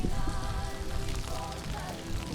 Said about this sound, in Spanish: Es que llueve tanto que he tenido que pedir un paraguas